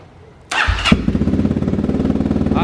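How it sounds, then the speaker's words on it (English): A 2021 Kawasaki KLX300 dirt bike fitted with a full FMF exhaust cranks and fires up, then settles into a loud, close, rhythmically pulsing idle with a sharp throaty putter. "All right, first startup."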